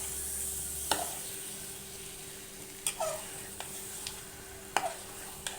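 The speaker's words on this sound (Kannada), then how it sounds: "ಚಿಕನ್ ಸೇರಿಸಿ ಚೆನ್ನಾಗಿ ಒಂದು ಐದು ನಿಮಿಷ ಅದು ಎಣ್ಣೆ ಒಳಗೆ ಫ್ರೈ ಮಾಡ್ಕೊಳ್ಳೋಣ" Chicken fries in hot oil in the tempering for a village-style coconut chicken sambar, a faint steady sizzle broken by a few sharp scrapes of stirring, with no talking.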